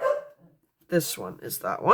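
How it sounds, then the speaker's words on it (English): A dog barks indoors in short bursts, mixed in with a person talking close by. "excuse my dog"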